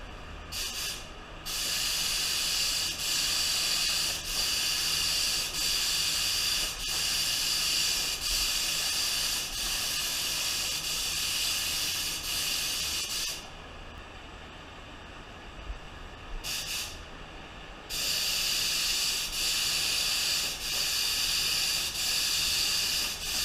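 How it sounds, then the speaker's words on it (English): A spray gun hisses steadily as it lays clear coat over candy paint, a continuous broadband spray that drops away briefly twice between passes and then resumes loud and close, with no talking. "let me apply some clear coat, then I'll go outside and I'll show it to you out in the sun"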